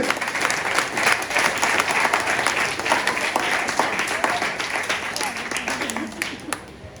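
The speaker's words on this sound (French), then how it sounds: "on a demandé applaudir mon Dieu" Wedding guests at a Haitian wedding applauding, dense sustained clapping from a crowd that holds steady for several seconds, loud and close.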